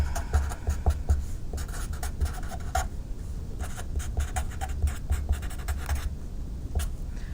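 Pen or marker writing by hand on paper or a board while drawing the Lewis structure of ammonia, a steady run of close scratchy strokes with short pauses, no talking.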